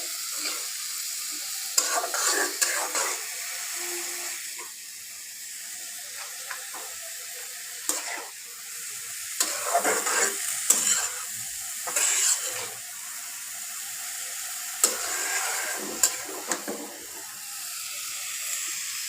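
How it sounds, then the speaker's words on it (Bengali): Beetroot and vegetables frying on low heat in a pan, a faint hiss with intermittent louder bursts of stirring and scraping spread across the stretch, nothing spoken. "এটা একদম স্লো হিটের মধ্যে রান্না করব"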